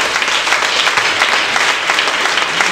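A church congregation claps steadily and loudly in praise of the Lord Jesus, a dense, continuous wash of many hands with no voices standing out.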